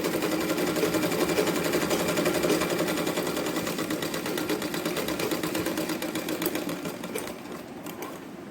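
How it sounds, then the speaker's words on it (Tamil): Sewing machine running fast and steady, stitching a straight line along the button placket of a silk Pattu Pavadai; a loud, continuous, rapid whir of needle strokes that slows and fades slightly near the end, no talk. "அந்த பித்தான் பட்டி வைக்கிற இடத்த நேராக ஒரு ஸ்டிச் போட்டுக்கிறோம்"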